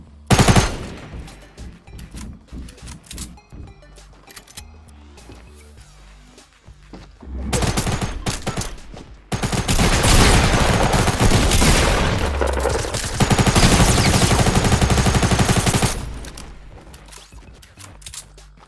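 Fortnite gunfight: a sharp opening shot, scattered reports, then long dense stretches of rapid automatic fire and heavy impacts, loud and close before cutting off near the end.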